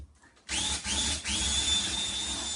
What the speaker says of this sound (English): Drill out that hole.